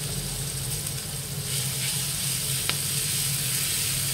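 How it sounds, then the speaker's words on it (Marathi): Cumin seeds and ground green chilli sizzle in hot oil for fasting batata vada, a steady close hiss of frying throughout with a faint click partway through. "त्याच्यात आता आपण जिरं टाकलं। त्याच्यात आपण मगाशी मी तुम्हाला दाखवलं हिरव्या मिरच्या आणि जिरं आपण दळून घेतलेलं ते टाकूया।"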